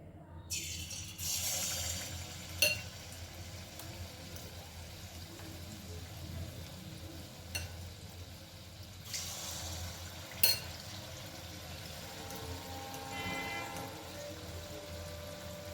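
Gokul pitha dumplings dropped one at a time into hot oil give a steady, soft sizzle and hiss throughout, with a few sharp clinks.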